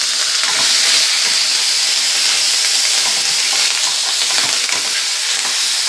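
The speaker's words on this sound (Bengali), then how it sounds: "আদা, রসুন আর পেঁয়াজ একসঙ্গে একটু ভালো করে কষিয়ে নেব" Ginger paste, garlic and onion paste fry in a pan for a Bengali katla fish curry, a loud continuous close sizzle and hiss with stirring scrapes, no talking.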